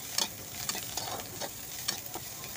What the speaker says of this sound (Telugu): మంచిగా ఫ్రై చేద్దాం.